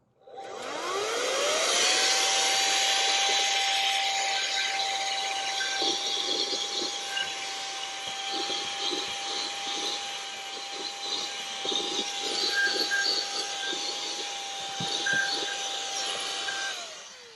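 An OTAO cordless electric air duster with a long nozzle spins up and blows sand and small rocks out of a car, keeping a loud, steady high-pitched whine for most of the stretch before it winds down.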